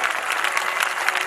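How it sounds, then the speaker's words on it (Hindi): An audience at a Shrimad Bhagwat Katha religious discourse applauds steadily, a continuous wash of many hands clapping at even loudness with a faint crowd murmur beneath. "एक बार ताली जोर से हो जानी चाहिए।"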